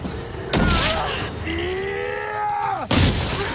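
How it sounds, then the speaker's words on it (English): Glass shatters in a TV drama scene, with two loud, harsh crashing bursts on either side of a tense stretch of held, wavering tones. "Nothing's stopping him breaking the glass, though."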